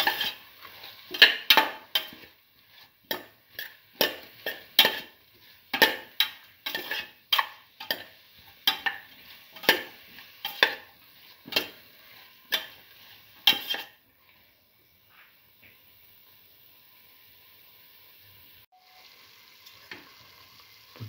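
Beef and rice stirred in a pan with a spoon, giving a steady series of sharp scraping and clinking strokes against the metal for about fourteen seconds, then near silence.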